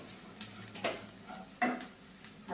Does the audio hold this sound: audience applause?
no